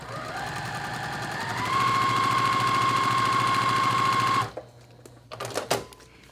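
Home sewing machine stitching quilt fabric for economy quilt blocks at a short stitch length, a steady close whirring run that speeds up, holds for a few seconds, then stops, followed by faint handling clicks.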